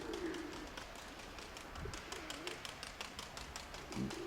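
Pigeons coo in low, soft, rounded calls near the start and again at the end, with faint rapid ticking and background hiss throughout.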